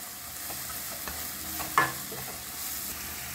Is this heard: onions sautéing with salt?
yes